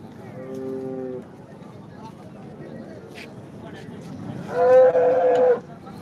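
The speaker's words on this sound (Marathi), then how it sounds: "मोठ्या दावणीतली गाई बघा" A cow at a livestock market moos twice, a short low call followed by a louder, longer one, with faint voices and shuffling in the background.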